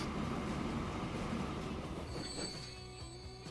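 A train in the video game Transport Fever rolling along with rumbling wheels, then high metallic wheel squeals rising as it slows, steady and fairly close.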